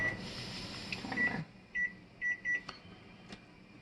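A kitchen timer beeps in a few short electronic tones near a stovetop of boiling dumpling dough, after a patch of steady appliance hum that cuts out.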